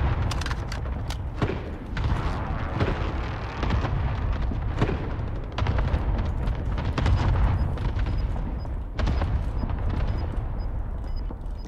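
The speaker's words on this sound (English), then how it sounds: "I didn't get anything with the airstrike" Airstrike explosions in the video game Call of Duty Warzone, a series of heavy booms and thuds landing at irregular intervals over a continuous rumbling battle background.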